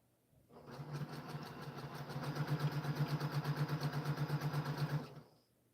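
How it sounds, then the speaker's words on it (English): A sewing machine stitches a quilt, a steady close run of rapid mechanical clatter that starts, holds an even fast rhythm for about four seconds, then stops. "Okay, more sewing."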